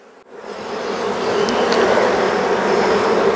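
A dense, steady buzz of many honey bees in a hive in winter swells up after a brief thump and holds loud and close throughout.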